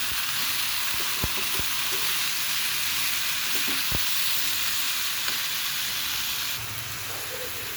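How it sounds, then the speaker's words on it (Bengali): Steady, dense sizzle of vegetables frying in hot oil, with a few sharp clicks of a utensil stirring near the pan; no voices. "সবজিটা ভাজা হয়ে গেছে"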